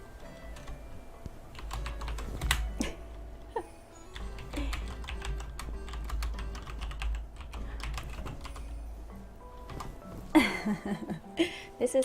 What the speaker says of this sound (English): Maybe I should type something in the chat.